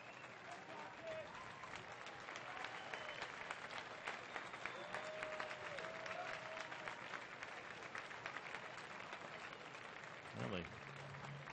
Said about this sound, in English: the crowd appreciative of the job of Armenteros